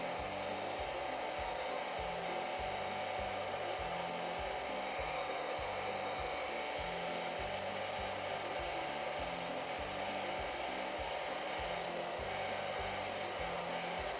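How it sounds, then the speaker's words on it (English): An old, beat-up hand-me-down hair dryer runs continuously while drying paint wash on an Imperial Knight model, a steady loud whooshing drone with a rhythmic low motor flutter throughout. "This poor beat up dryer."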